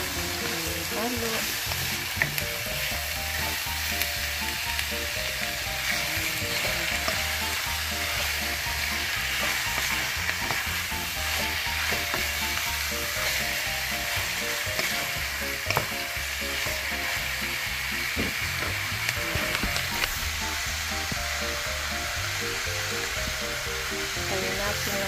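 Beef liver frying and being stirred in a pan, a steady loud sizzle running throughout with occasional scraping stirs, with no talking over it.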